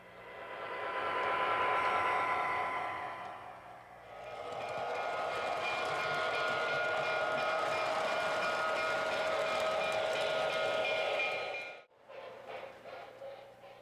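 An MTH O gauge model diesel locomotive runs on track with a loud steady rolling rumble and motor whine. The sound swells, dips briefly, then holds before cutting off abruptly near the end.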